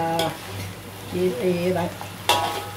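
Mackerel scad frying in sambal in a pan, a steady sizzle broken by sharp scrapes of stirring at the start and end, with a voice talking briefly over it.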